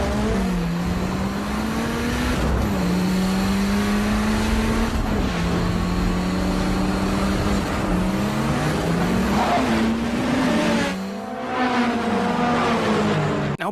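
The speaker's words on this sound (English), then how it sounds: "the cars that they used in this scene are 1993 Honda Civic EJ1s" 1993 Honda Civic EJ1 cars racing in a film scene, engines screaming with rising and falling revs through gear changes, tires squealing, and cars sweeping past loud and close.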